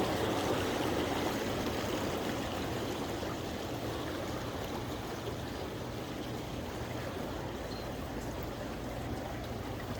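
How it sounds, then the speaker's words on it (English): Water trickling steadily in a small garden pond, a continuous close babbling wash with no breaks, no talking. "my son and I created this small pond"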